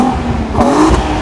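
An Audi A3 with a 3.2-litre V6 revs in a short, loud burst, the engine note climbing quickly and then falling back, heard close up with no talking.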